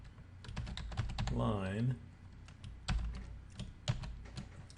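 Fingers tap on a computer keyboard while writing C# code, making light, irregular clicks with a short spoken phrase in the middle.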